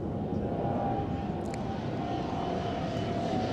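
Steady, loud low roar of an airplane flying over near Roissy airport in France, a continuous engine drone filling the whole stretch with no talk.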